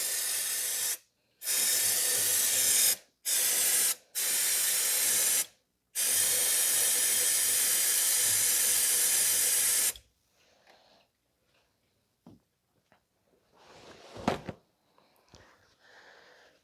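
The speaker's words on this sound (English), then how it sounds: "you can take a little bit of brake cleaner and wash down the area" Brake cleaner sprayed from an aerosol can onto the engine area of a 2005 Toyota Corolla during a thermostat housing replacement: several loud close hissing bursts, the longest about four seconds, followed by faint clicks and handling noises.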